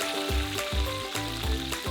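Food fries in a pan with a continuous crackling sizzle, punctuated by rhythmic scraping strokes of stirring roughly every half second, close and steady.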